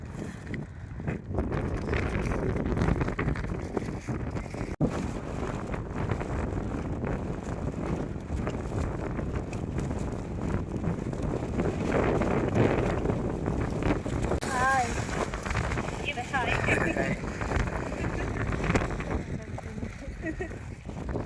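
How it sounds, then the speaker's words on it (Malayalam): Strong wind blows across an open mountain trail on the Meesapulimala trek, a steady buffeting roar over the microphone throughout, with people talking beneath it. "നല്ല രീതിയിൽ കാറ്റടിക്കുന്നുണ്ട്."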